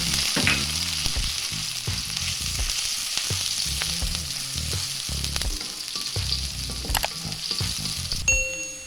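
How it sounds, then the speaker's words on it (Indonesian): Shallots and garlic sizzle steadily in hot oil in a pan for salted squid stir-fry, a loud continuous crackle close up, with utensil clinks and scrapes from stirring. "Kita tumis dulu ya bawang merah, bawang putih"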